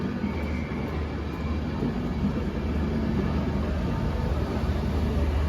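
Steady low rumble of a locomotive-hauled train at Crewe station, a continuous broad drone with engine throb filling the platform, fairly loud and unbroken with no talk.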